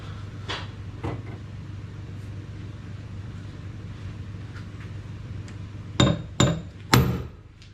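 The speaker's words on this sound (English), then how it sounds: "My trusty hammer." A hammer strikes metal on an all-wheel-drive VW Lupo track car during a short shifter fitting: a couple of light taps early on, then three loud, sharp, ringing blows close together near the end.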